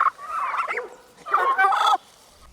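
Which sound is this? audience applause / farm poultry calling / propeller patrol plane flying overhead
farm poultry calling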